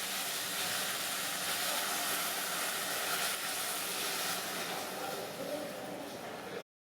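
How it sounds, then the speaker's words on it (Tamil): Tamarind water pours into a simmering tomato kuzhambu for vendhaya keerai puli kuzhambu, making a steady, dense sizzling hiss that runs close and unbroken for several seconds before cutting off abruptly. "இப்போ நம்ம அந்த புளியை அதில் ஊற்றிடுவோம்."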